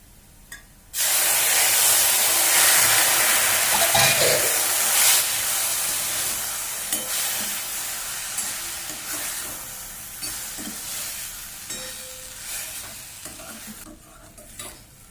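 Buttermilk is poured onto hot onion and oil, setting off a sudden loud hiss and sizzle that slowly fades, while a spoon stirs and scrapes the pan with intermittent clinks.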